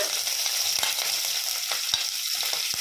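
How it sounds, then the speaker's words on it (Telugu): Green chillies and onions sizzle steadily in a hot pan for veg pulao, a continuous close frying hiss with occasional soft stirring taps. "ఇప్పుడు త్వర త్వరగా మన వెజిటేబుల్స్ అయితే వేసేసుకుందాం పచ్చిమిర్చి ఇంకా ఆనియన్స్"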